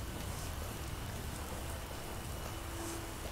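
Rain falls in the video game Skyrim, a steady, even hiss of drops spread evenly throughout, moderately quiet and unbroken, with no voices over it.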